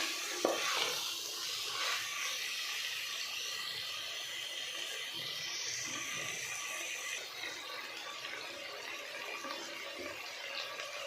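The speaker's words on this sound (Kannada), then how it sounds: "ಒಂದು 10 ಮಿನಿಟ್ಸ್ ಹೀಗೆ ಫ್ರೈ ಮಾಡ್ಕೋಬೇಕು." Chicken yakhni pulao ingredients frying in a pan, a continuous soft sizzle with occasional stirring scrapes and a clatter near the start, moderately quiet and steady.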